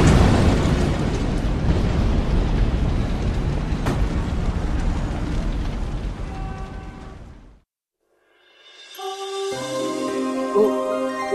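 A grenade sound effect: a long, loud, rumbling blast that roars for several seconds and then fades to silence, followed by a bright ringing chime-like tone.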